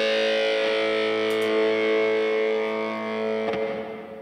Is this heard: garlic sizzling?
no